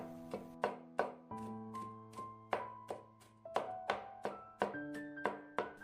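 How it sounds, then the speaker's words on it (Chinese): A knife minces garlic on a chopping board in a quick series of around fifteen sharp thunks, steady and close, with gentle music playing underneath. "再剁成蒜末，这样蒜香味会更加的浓郁"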